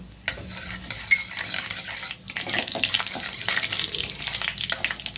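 Nigella seeds crackle and sizzle in hot oil in a wok, starting with a stir and then rising into a bright spitting fry that is fairly close and moderately loud, with no talk.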